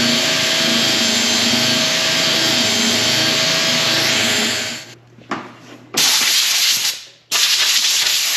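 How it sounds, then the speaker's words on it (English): A belt sander runs loud and steady across a wooden barn door for about five seconds, then cuts out, starts again briefly, and runs once more before stopping abruptly. "I'm gonna belt sand this way over these seams first"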